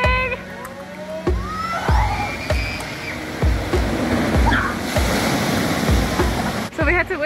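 A giant tipping bucket at the Aqualava waterpark in Playa Blanca, Lanzarote dumps its load, a broad roaring rush of water under a steady splashing wash, with voices and shouts mixed in throughout.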